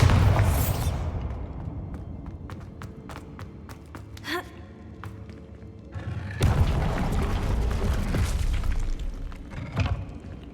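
A Bombarda explosion spell goes off in the Hogwarts Legacy video game: a heavy boom opening the sequence, then scattered cracks and thuds, and a second loud rumbling blast that sustains for several seconds.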